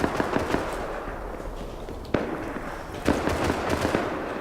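Enemy gunfire crackles in a video game, with bursts of rapid shots and a few sharper single cracks over a busy, mid-level background.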